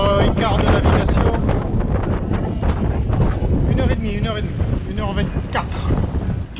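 Strong wind buffets the microphone over water as a sailboat tacks toward Palmeira, with loud gusty rushing throughout and occasional French voices mixed in.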